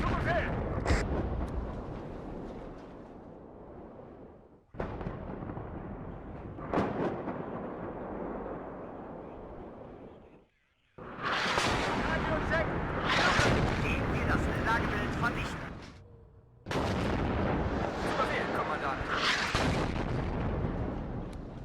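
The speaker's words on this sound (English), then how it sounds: "The artillery is kind of annoying" Artillery barrages in the WARNO real-time strategy game rumble as long, heavy booms, continuous and loud across most of the stretch with brief gaps between salvos, while someone talks over them.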